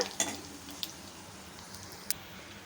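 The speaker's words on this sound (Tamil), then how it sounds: "இந்த வெந்தயம் வந்து கொஞ்சம் நல்லா செவந்து தாளித்து வரட்டும் கலந்து விட்டுக்கோங்க" Fenugreek seeds and dried red chillies fry in a pan with a soft continuous sizzle, while a spoon stirs and clinks against the pan a few times.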